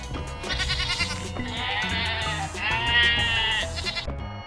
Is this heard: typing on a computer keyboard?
no